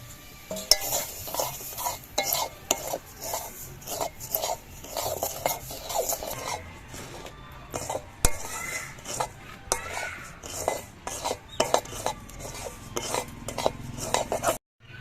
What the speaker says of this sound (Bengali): এই ঘিয়ের মধ্যেই আমি সুজিগুলো ভেজে নিচ্ছি